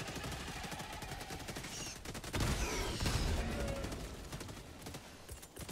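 Dense automatic gunfire in Helldivers 2, a rapid continuous rattle of shots with heavier bursts and a booming impact midway, loud and close throughout.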